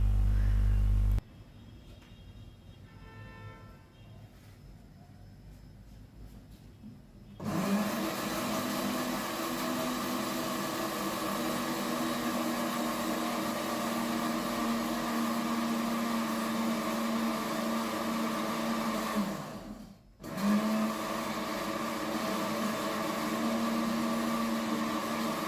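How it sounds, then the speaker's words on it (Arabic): A blender motor starts up after a quiet stretch and whirs loudly and steadily mixing chocolate sauce, briefly stopping and restarting before running on. "بس كده، ونضربه في الخلاط."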